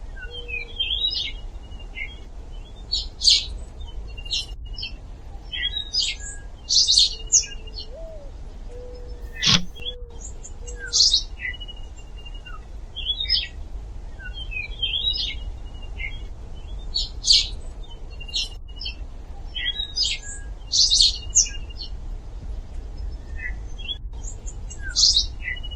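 Birds chirp outdoors in repeated clusters of bright, high, short calls spaced every few seconds, moderately near, over a soft low background rumble with a single sharp knock midway.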